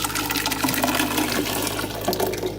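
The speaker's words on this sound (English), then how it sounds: "Then we're just gonna pour our soup on top of this." Soup poured into a stock pot over melted butter, a continuous close liquid gush and splashing that runs steadily throughout with no talk.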